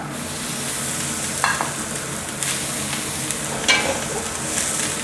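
Water mimosa stir-fried in a wok after aromatics, a low steady sizzle broken by a few spatula scrapes and clinks, close up and without speech.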